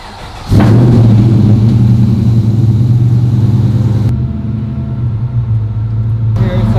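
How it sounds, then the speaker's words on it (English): A cold LS3 V8 engine in a Porsche GT3R build cranks and fires, then settles into a loud, deep, burbling idle that stays strong and close for several seconds. "Here's a cold start with the LS3"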